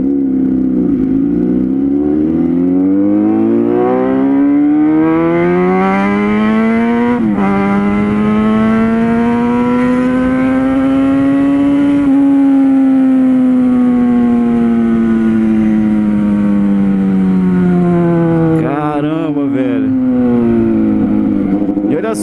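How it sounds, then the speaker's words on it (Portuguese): A 2009 four-cylinder motorcycle engine revs loud and steady, its pitch rising and holding high for long stretches, dipping and climbing again between throttle blips, with no voices over it. "Você pega uma moto dessa, não quer parar de acelerar mais."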